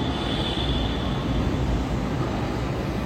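A Kolkata Metro train on the Blue Line rolls into a station at Esplanade, a steady loud rumble with a faint high whine running through it, and no voices.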